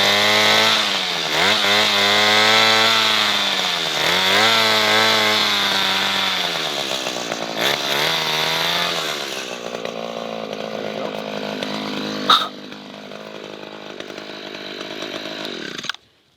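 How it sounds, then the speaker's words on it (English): A power drill bores a tap hole about three inches into a maple tree at a slight downward angle, its motor whining loudly and steadily with pitch dips as the bit loads, then easing off and stopping. "So we lower the drill about 10 degrees, and I'm going to go in 3 inches"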